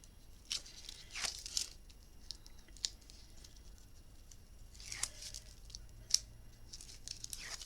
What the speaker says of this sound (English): Remove our backing.